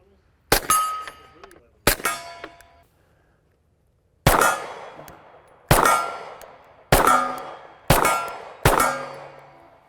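Handgun shots from a 1911-style pistol ringing off steel targets: seven sharp metallic clangs, a pair first, then a pause and five more at an even pace, each with a short ringing decay.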